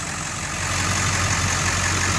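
A 2002 Ford F350 dually truck's 7.3 Power Stroke diesel engine idles steadily with a low rumbling drone, close and continuous, with no voices.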